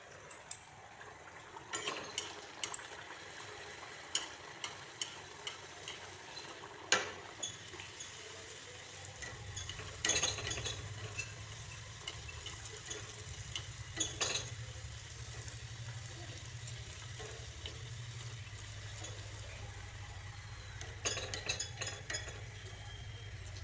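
Pea kachori deep-frying in hot oil over a medium flame, a steady sizzle that thickens partway through, mixed with frequent close clinks of a metal utensil against the pan.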